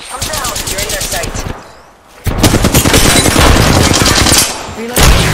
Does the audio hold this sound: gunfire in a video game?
yes